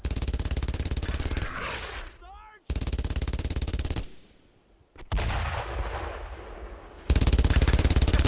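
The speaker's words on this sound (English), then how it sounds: "Facing fire on that mortar team! Target that MG-42!" Rapid, rattling MG-42 machine gun fire from Brothers In Arms: Road to Hill 30 is heard in several sustained bursts. The bursts are cut by brief pauses and a whistling effect partway through.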